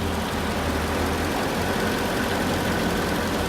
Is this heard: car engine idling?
yes